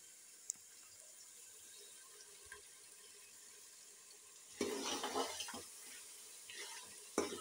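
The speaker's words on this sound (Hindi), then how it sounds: "मैं इसमें पानी डाल दूँगी शोरबे के लिए" Water poured into cooking meat to make broth, starting midway as a loud splashing gush with sizzling and bubbling, after a quiet kitchen stretch with small clinks.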